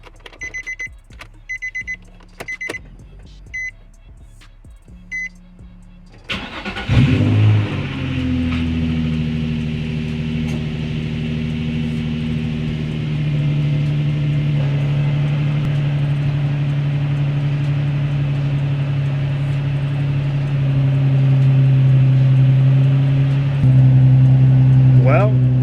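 Car engine turning over for its first start after an OPTIMA Redtop battery install: a few beeping chimes, then the engine catches and settles into a steady, close idle hum that rises slightly near the end.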